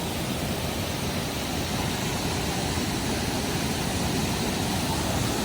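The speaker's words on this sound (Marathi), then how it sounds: "आणि पाणी पण बघा किती जोरात येते" Dam water pours down a village waterfall in a loud, steady broadband roar, close and continuous with no break or voices.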